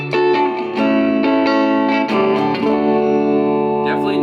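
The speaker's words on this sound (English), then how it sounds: "this is a decent sounding reverb" Electric guitar played through the spring reverb effect of a Milkman amp, with plucked notes and chords trailing into a lush, splashy reverb tail, loud and alone.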